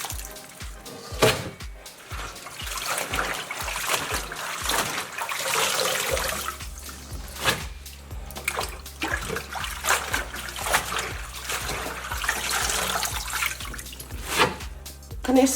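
Water sloshes and splashes in a bowl as collard greens are rinsed of sand, with steady close trickling and splatter throughout, plus a rhythmic low thudding underneath and no talking.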